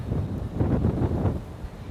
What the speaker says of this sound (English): now we're getting to the windy part